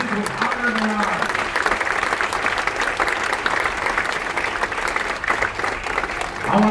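Audience applause for medical workers during a hero's tribute aboard the cruise ship Voyager of the Seas, sustained clapping with cheers and voices woven through it.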